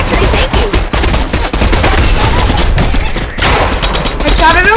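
Rapid bursts of automatic gunfire in the video game Fortnite rattle loudly and nearly continuously, with short gaps between volleys and other game effects mixed in.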